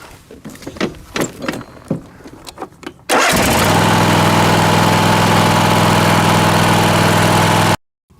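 A car with a dead battery is jump started with a portable jump starter: a few sharp clicks and knocks, then the engine cranks and catches at once into a loud steady idle that cuts off abruptly.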